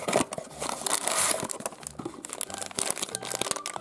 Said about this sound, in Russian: Теперь давайте открывать коробочки от свитбокса.